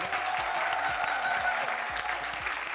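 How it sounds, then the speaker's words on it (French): A television comedy show's studio audience applauds a comedian with steady, dense clapping that holds evenly for the whole stretch, with no voices over it. "je demande de faire beaucoup d'applaudissements pour"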